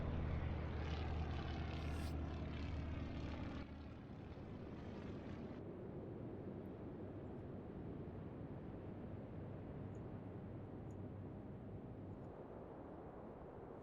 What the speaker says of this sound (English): Launch aircraft.